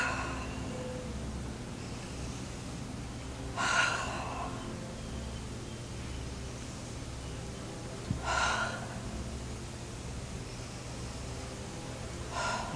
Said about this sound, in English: So first we're going to get the circle breath going.